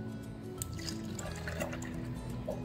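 Evaporated milk pours for homemade strawberry milk ice pops in a steady liquid stream, with gurgles and small splashes close by.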